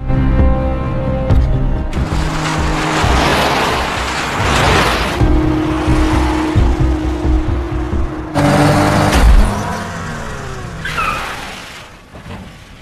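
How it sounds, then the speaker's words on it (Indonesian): A car crash in a film scene on a quiet road: loud broadband impact bursts and scraping noise with a tonal music-like drone beneath, continuing for several seconds before fading out near the end. "Scene awal film memperlihatkan sebuah tabrakan mobil di jalan yang sepi"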